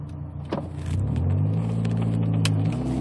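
Steady interior road rumble inside a 1991 Nissan S13 with the windows up on a mountain drive, a low engine drone rising slightly as it picks up speed, with a couple of brief clicks and no talking.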